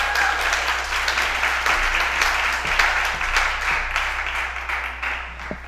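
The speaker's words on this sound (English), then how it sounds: "Let's give a round of applause for Debbie Payne" Steady audience applause fills an evening speaker event in Sarnia, dense and sustained throughout with a few sharper claps standing out, greeting a woman named Debbie Payne as she is called up.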